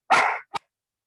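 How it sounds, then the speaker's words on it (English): A dog gives one loud, close bark followed by a short, quieter second yip, then silence. "my dogs are barking"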